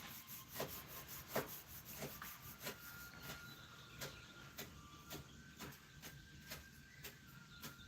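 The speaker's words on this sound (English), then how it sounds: "the physical sensations when you rub your hands together" Hands rub together close up in slow, repeated strokes, each a soft dry swish of skin on skin, about one every half second, quiet and alone without talk.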